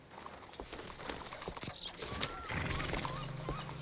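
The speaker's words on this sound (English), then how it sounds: "You got a horse? Get on it." Horse hooves clip-clopping in Red Dead Redemption 2, a steady run of close hoof knocks with creaking tack and other game noises mixed in, no talking.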